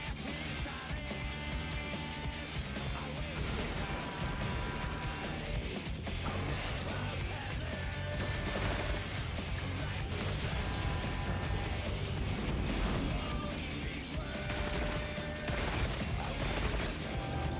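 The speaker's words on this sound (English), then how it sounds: "Mustard bomb, okay" A mustard bomb explodes in a video game amid a dense, continuous roar of crackling blasts and clattering mechanisms, loud and unbroken from start to finish.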